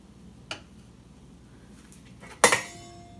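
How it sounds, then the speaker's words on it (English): A spoon clinks against a pot of vegan jambalaya while it is stirred, one light tap and then a sharper metallic clatter near the end, close and quiet with no talking. "stir it up."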